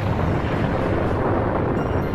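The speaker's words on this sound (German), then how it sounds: "Und so kommt es zu dieser Explosion in der Luft." Fireball exploding high in the air during the Tunguska event, a sustained, loud, rumbling roar of the blast that holds steady without fading.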